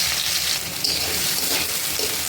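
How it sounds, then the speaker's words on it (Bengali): Onion and garlic sizzle in hot mustard oil in a wok, a continuous close, bright frying hiss that stays steady throughout, with no voices. "তেল গরম হয়ে গেছে এবার পেঁয়াজ রসুনটা দিয়ে দেব"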